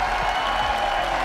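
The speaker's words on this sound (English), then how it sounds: "could I get some noise from the crowd?" Crowd at the Dota 2 Stockholm Major cheering and applauding, a dense steady roar of noise with no clear breaks through the short moment.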